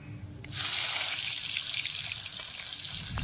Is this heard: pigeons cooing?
no